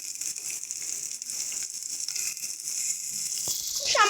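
Chopped tomato dropped into spices frying in a pan while cooking an egg dish, a steady hiss of sizzling oil swelling into a brief louder crackle and splatter near the end.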